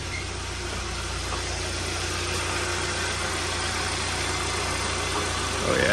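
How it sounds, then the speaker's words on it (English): A car engine idles steadily with its air-conditioning compressor running, giving a continuous, even, moderately loud hum that stays level throughout. "Let's go make sure that the compressor is coming on."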